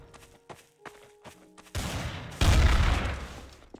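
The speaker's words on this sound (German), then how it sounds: "was ballert ihr da hinten? Wer, wer schießt auf wen?" Gunfire in the multiplayer game Trouble in Terrorist Town: a few sharp isolated shots, then a sudden dense burst of rapid automatic fire that grows louder and heavier before tailing off.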